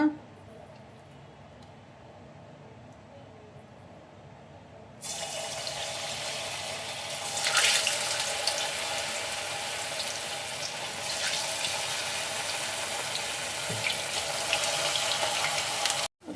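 Paneer kebab mixture hits hot oil with a sudden loud, steady sizzling hiss that swells and continues evenly after a quiet start.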